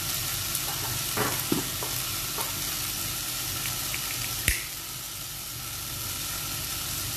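Boiled vegetables get stirred into melted butter in a hot pan, a steady sizzle with scraping and a few soft knocks, one sharp clack near the middle.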